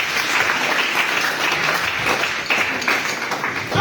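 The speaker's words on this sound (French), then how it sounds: "Tu peux acclamer le Seigneur." Church congregation breaking into sustained, dense applause that holds steady and loud throughout, with scattered individual claps standing out near the end.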